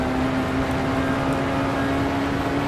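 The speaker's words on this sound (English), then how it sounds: "it's got more road noise than all the other cars so far" Constant loud road rumble with a steady engine drone, a Tatuus formula car in rFactor 2 cruising at speed without pause.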